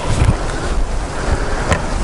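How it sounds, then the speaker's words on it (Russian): Strong wind gusting by the Segezha river in Karelia, buffeting a microphone with low rumbling bursts and a continuous rushing roar, close and loud. "Ветрище сильное."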